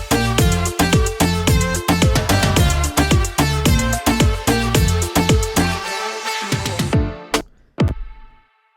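Layered moombahton kick drums hit hard and steadily against a full dance track with bass and melody, the rhythm pounding on for about seven seconds before cutting out into a few sparse closing hits.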